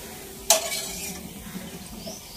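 Papad frying in a pan at home, opening with a sharp clink of utensil against the pan, then a short burst of hissing sizzle that fades to a quieter bubbling.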